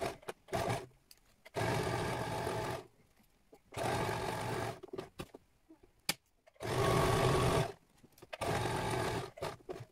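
Sewing machine stitching a seam one centimetre from the edge of a canteen napkin, running in four close, loud bursts of steady whirring separated by short pauses with small clicks and handling noises.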